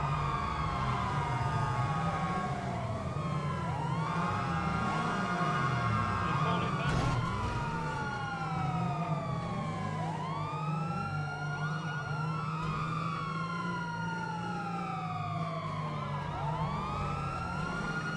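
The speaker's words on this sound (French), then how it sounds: "Allez, on met tous les sirènes, là" Several sirens wail together, their rising and falling tones overlapping continuously over a low engine rumble, loud and close throughout.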